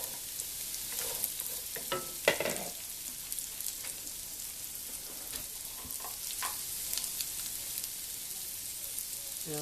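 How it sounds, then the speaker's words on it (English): Oil sizzling steadily in a pan as yard long beans fry, with occasional stirring clatter and bursts of crackling. "you start seeing the oil bubbling and sizzling now"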